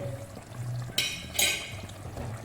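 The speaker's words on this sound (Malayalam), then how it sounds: "ഇനി ഇതിൻ്റെ അകത്തേക്ക് ഒരു സോസ് ഒഴിക്കുന്നുണ്ട്." Two short bursts of liquid splashing into a pan, one after another, over a low steady kitchen hum.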